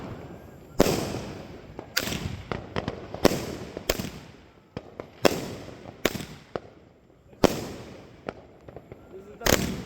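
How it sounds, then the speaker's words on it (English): Fireworks going off outdoors in a series of loud, close bangs and crackling bursts, roughly every second or two, with people talking and reacting between the blasts. "We love the fireworks."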